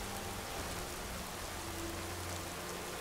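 Steady rain falls in Skyrim, a continuous soft hiss at low level with no voices over it.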